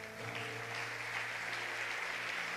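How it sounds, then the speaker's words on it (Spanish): Church congregation applauding together during a worship service, a dense, steady wash of many hands clapping that holds evenly throughout at moderate loudness. "Dele un aplauso al Señor"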